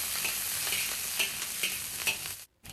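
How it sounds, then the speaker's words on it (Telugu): Ginger, garlic, green chilies and curry leaves sizzling in hot oil in a pan, a steady bright hiss with soft stirring scrapes at regular intervals, cutting out briefly near the end. "అల్లం వెల్లుల్లి వేసేసి అలానే పచ్చిమిర్చి కరివేపాకు కూడా వేసేసి ఈ విధంగా ఒక నిమిషం పాటు ఇలా వేయించుకుందాము"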